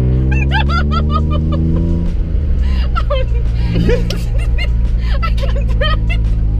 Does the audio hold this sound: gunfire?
no